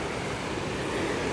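A riverside stream flows steadily, a broad continuous rushing wash of water that stays even and fairly loud with no voices throughout.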